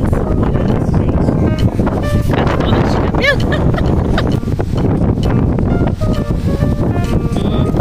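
Strong wind roaring on a trip to Búzios, a loud, constant rush buffeting the microphone while people talk underneath it.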